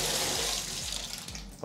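Hot water gushing steadily from a tap, a close, continuous splashing rush with no voices.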